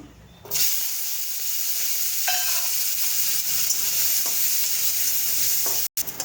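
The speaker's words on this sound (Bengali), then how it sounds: "এবার রসুনটা ভেজে নেব" Garlic frying in hot oil, a loud steady close sizzle starting abruptly and continuing with a few light clinks of a utensil, no talking.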